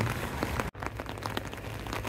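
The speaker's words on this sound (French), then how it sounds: "Alors aujourd'hui, une petite journée de pluie qui devrait se calmer en soirée." Light rain patters steadily on surfaces in the Bic nature reserve, a soft, even hiss with scattered drops and one brief dropout, no voices.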